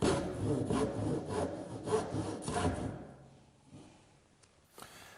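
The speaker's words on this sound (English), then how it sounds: "finish up with a handsaw to make these short cheek and shoulder cuts that bring the tenons to their final width" Handsaw cutting short cheek and shoulder cuts on wooden tenons for a garden bench, a run of close, rhythmic rasping strokes that slows and fades, followed by a few faint knocks.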